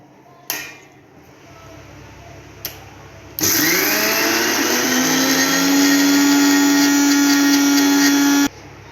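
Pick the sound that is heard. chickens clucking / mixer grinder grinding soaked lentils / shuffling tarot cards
mixer grinder grinding soaked lentils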